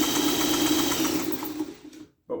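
A Honda ATC110 three-wheeler engine runs near idle with a steady, buzzing mechanical drone that cuts out briefly near the end before restarting.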